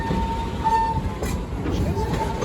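Steady rumble and rattle of the Serengeti Express park train rolling along at Busch Gardens Tampa Bay, a continuous close carriage noise with a faint tonal hum, no distinct horn.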